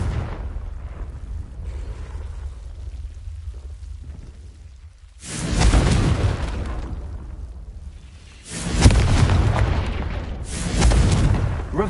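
Confringo blasting spells going off in Hogwarts Legacy: three loud, booming bursts, each with a sharp onset and a rumbling decay, separated by quieter background ambience.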